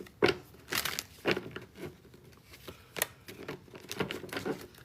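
Tarot cards being shuffled by hand, a run of crisp riffling and papery flicks in uneven bursts, close and fairly quiet with no talking.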